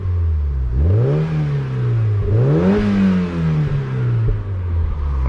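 An unmodified 2002 Mazda MX-5 NB facelift with the 1.6 engine revs twice from idle, each blip rising sharply and falling back to a steady idle, loud and close, with no talking.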